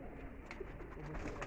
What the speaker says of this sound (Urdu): یہ دیکھیں جی بڑا کولی والا کبوتر ہے